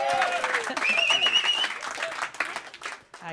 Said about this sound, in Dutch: Applaus voor jezelf. Ja, niet zo'n matig applaus.